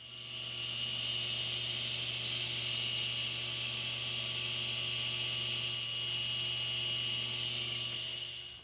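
A saw set against a fence cuts a wooden block up to a tape line, giving a continuous high machine whine over a low hum that holds evenly throughout.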